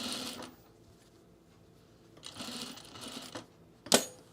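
A sewing machine stitches through a garment's binding in short runs: a burst at the start, a longer stretch in the middle, and a sharp clack near the end. It sounds close and moderately quiet, with no voices.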